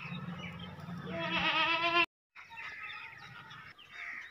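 A goat sold at a livestock market bleats loudly and nasally up close, one long wavering call that breaks off abruptly, then a second, softer bleat follows after a short gap.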